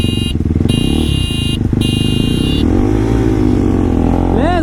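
Bajaj NS400Z and KTM Duke 390 motorcycles racing on a road, loud engines revving and roaring up and down close by, with shifting pitch and a brief whining note near the end, with people talking over them.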